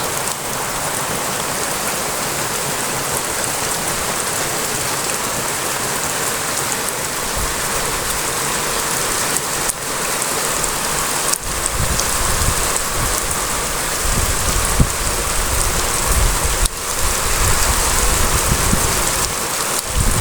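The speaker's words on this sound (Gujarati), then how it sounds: "અમારા તો આ રીતનો વરસાદ પડે છે બહાટી" Heavy rain pours steadily over farmland, a dense, continuous hiss of drops hitting the ground with no voices and a slight swell in intensity toward the end.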